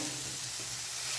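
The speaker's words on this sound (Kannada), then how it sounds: "ಇವಾಗ ಇದನ್ನೆಲ್ಲ ಚೆನ್ನಾಗಿ ಹುರ್ಕೊತೀನಿ, ಫ್ರೈ ಮಾಡ್ಕೊತೀನಿ" Spices and chillies dry-roasting and frying in a pan for a sprouted horse gram sambar: a brief, steady, close sizzle with soft stirring texture and no voices.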